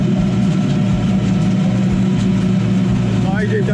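Tractor engine running slowly during a difficult carrot harvest in the rain, a steady low rumbling drone that is loud and continuous throughout.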